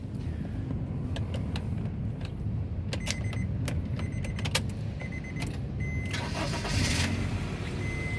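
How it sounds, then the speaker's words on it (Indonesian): A 2014 Honda Mobilio 1.5 E automatic engine cranks and catches, then settles into a steady low idle, heard up close with a few faint clicks and mechanical noises on top. "Nah, itu suara mesinnya."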